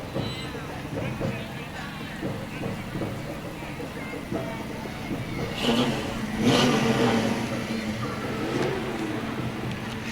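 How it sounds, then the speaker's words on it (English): A classic Pontiac GTO rolls past in a Christmas parade, its engine swelling into a louder rev midway and then holding, with crowd chatter and voices mixed in over the running motor. "Here comes a GTO, which is one of my personal favorite classic cars."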